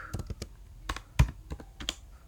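Irregular keystrokes tapped on a laptop keyboard while coding, a handful of close, sharp clicks at an uneven pace with no talking.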